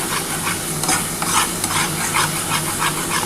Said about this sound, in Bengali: এবার এই যে আদা রসুন আর কাঁচা লঙ্কা বেটে রেখেছি এটা দিয়ে দিলাম। ভালো করে নাড়াচাড়া করে নিচ্ছে